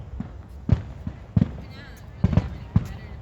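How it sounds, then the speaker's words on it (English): Fourth of July fireworks in Toledo bursting in the distance, a series of sharp booms at irregular intervals with people talking nearby. "as the fireworks are finishing off, I bet."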